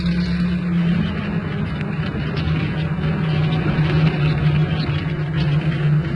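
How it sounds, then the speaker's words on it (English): A small red post van drives along a country valley road, with a steady, close engine drone that holds level throughout. "said Pat to Jess as they drove along the valley on a fine sunny morning"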